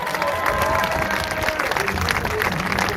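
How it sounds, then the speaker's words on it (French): Crowd applause at an outdoor protest rally against the health pass in Toulon, a steady loud clatter of many hands with some murmuring voices mixed underneath throughout. "Applaudissements."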